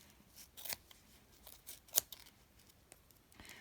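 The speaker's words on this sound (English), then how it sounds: "you get your scissors in there, and you have to cut all the way around" Scissors snip quietly and irregularly up close through yarn on a crocheted mini beanie, with several crisp cuts and one sharper snap among softer rustles.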